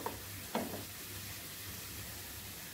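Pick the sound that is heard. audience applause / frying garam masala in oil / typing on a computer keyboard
frying garam masala in oil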